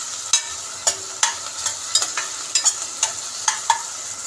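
Chicken and papaya being sautéed in a pan, home-style ginisang manok, with a utensil stirring and scraping in repeated bursts about every half second over a soft, steady sizzle, close up and with no voices.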